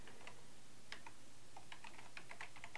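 Fingers tap out code on a computer keyboard in a C++ programming class, a quiet run of light, irregular keystroke clicks over a low steady room hum.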